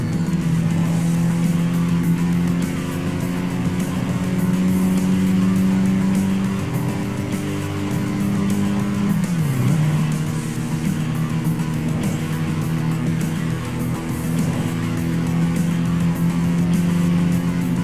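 A race car engine in the video game Tokyo Xtreme Racer '25 drones steadily at high revs, close and loud, with a brief dip and recovery partway through as if shifting gears, then holds a sustained tone again.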